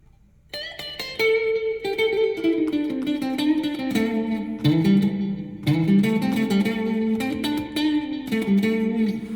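Clean, thin electric guitar tone from a Schecter HW-3CTM with its EMG 89XR pickup split to single-coil plays a melodic solo run, picked notes ringing clearly with light sustain.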